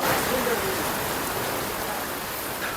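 Broadband hiss of heavy rain pouring down steadily at night, loud and even across the whole stretch, with a brief faint voice near the start.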